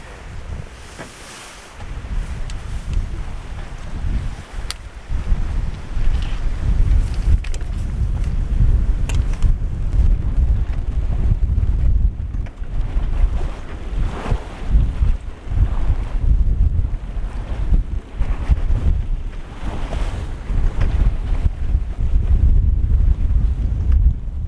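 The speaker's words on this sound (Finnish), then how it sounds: "Nyt ei saada vettä, mutta tuuli on edelleen olemassa" Strong wind buffets and roars across the microphone in steady gusts, with water sloshing and splashing faintly underneath as a small sailboat moves on Lake Päijänne, Finland.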